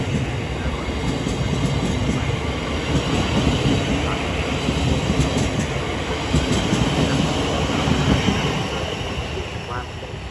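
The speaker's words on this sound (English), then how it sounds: "Heading off as well is the 11:53 Thameslink service to London Blackfriars." A Thameslink train departs Bromley South station, a loud, steady rumble of wheels and rails close by, with faint high squeal and clatter running through the whole stretch.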